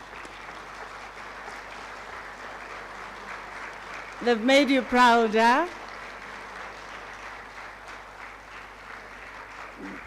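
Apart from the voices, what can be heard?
graduation ceremony audience applause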